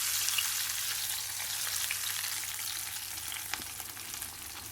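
Hot tempering poured into a Kerala pumpkin curry with coconut gives a steady, moderately loud sizzle with a few brief louder crackles, heard alone throughout.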